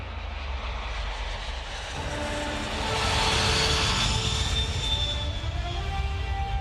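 Indian Air Force aircraft engines roar in flight, a steady broad jet-like rumble that swells louder midway and holds, with no voices over it.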